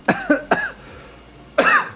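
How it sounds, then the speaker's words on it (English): Three quick dry coughs close by, then a brief pause before one more harsh cough, with no talking. "Unexpected coughing."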